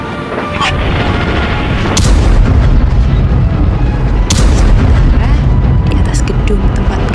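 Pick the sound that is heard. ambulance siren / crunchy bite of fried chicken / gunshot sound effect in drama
gunshot sound effect in drama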